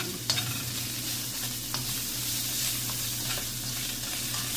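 Salmon mixed with salt and pepper in a frying pan, with a constant bright sizzle and occasional soft stirring scrapes up close, no voices.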